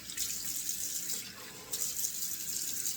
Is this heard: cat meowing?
no